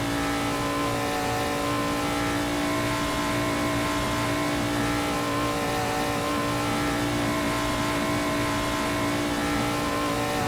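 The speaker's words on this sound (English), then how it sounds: "Of course, the 1955 Chevy Bel Air." A 1955 Chevy Bel Air engine runs loud and steady, its rumbling drone with strong tonal harmonics holding constant for about ten seconds without pause.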